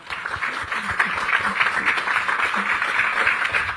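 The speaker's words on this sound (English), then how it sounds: "Applause, please." Audience applause for panelists at a formal event in Jamaica: steady, dense clapping from a crowd, moderately loud and sustained throughout without speech.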